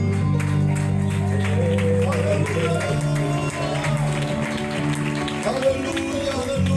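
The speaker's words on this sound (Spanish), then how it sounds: "Fuerte el aplauso para Dios, por favor" A church congregation at an evangelical healing service applauds, the clapping fairly soft and spread across the room, partly masked by sustained low musical tones.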